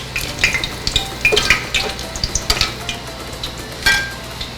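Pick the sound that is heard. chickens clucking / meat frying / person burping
meat frying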